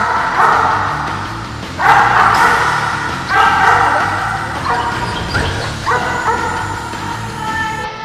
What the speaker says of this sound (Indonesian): Saat menemukan korban, ia akan menggonggong untuk memberitahu pasukan SAR yang bertugas bersamanya.